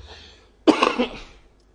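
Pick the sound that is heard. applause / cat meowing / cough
cough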